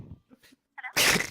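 One short, sharp sneeze bursts out at the end, loud and close, after a few faint breathy sounds in a quiet room.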